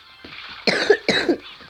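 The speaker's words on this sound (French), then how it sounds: "Désolé, je tousse." Two sharp, close coughs from an adult man, a quick pair of harsh bursts following a softer breathy sound, heard alone with no talking.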